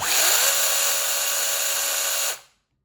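A Tex.AC TAOE-S6 cordless brushless chainsaw with a 6-inch bar runs at a high, steady whine for about two seconds and then shuts off abruptly into silence.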